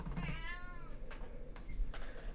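House cat meowing once, a drawn-out rising and falling cry at moderate distance, followed by faint rustling and a couple of soft clicks in a quiet room.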